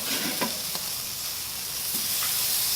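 Pork burgers coated in bourbon BBQ sauce sizzle steadily on a hot cooking surface as they are flipped, a constant close frying hiss with a few soft scrapes and taps.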